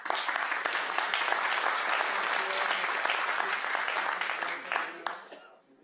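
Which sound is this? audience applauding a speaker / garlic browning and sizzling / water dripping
audience applauding a speaker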